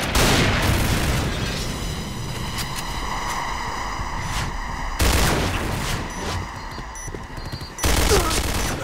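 Heavy automatic gunfire and blasts from a grenade in the video game Project Blackout, a continuous loud fusillade punctuated by two booming explosions, with game voice callouts faintly underneath.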